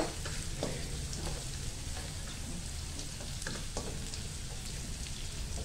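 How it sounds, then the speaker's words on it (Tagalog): Garlic browning with onion in a frying pan, a faint, even sizzle with light crackles and occasional stirring scrapes, steady from start to end. "Habang binabrown po natin ang ating bawang, isama na po natin ang ating sibuyas."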